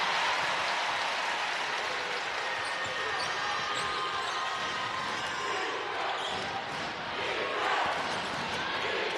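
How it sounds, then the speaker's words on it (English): A large indoor basketball arena crowd at a women's Oregon v Duke game roars and cheers steadily throughout, a dense wash of voices with whistles and shouts rising and falling. "The Duke crowd asking for some offense"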